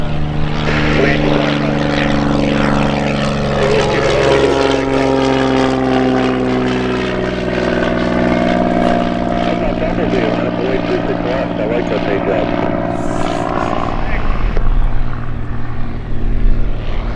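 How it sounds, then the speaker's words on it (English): A propeller airplane takes off at Oshkosh AirVenture with a loud, steady engine drone and a shifting propeller tone throughout, while voices talk over it. "Aircraft departing runway 36 left, turn right."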